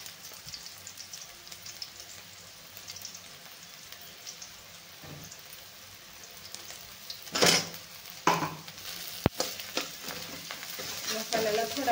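Masala spices frying with browned onion in a pan, a soft continuous sizzle broken by a few sharper scrapes and clinks of the spoon toward the end.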